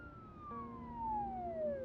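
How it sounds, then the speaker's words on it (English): An ambulance siren wails from the distance, a single long falling tone sweeping steadily downward over a low rumble, with no voices. "Can you hear the sirens in the distance?"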